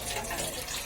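Water from a basin spills out in a steady, continuous rush, close and fairly loud, with no clear gaps across the brief moment.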